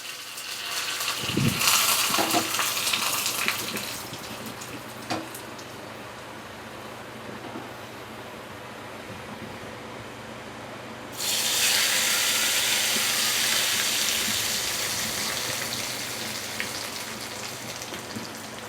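A Telangana-style tempering of mustard seeds, cumin, garlic, dry red chillies and curry leaves sizzles in hot oil with a steady hiss, with a few clatters, then a louder, brighter burst of sizzling partway through.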